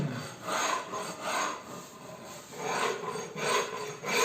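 Hand rasp shaping a wooden Telecaster electric guitar body, about eight rhythmic, close scraping strokes with brief pauses between, each a coarse rough rasp.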